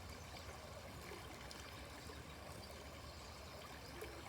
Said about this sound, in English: the ever-flowing movement of the creek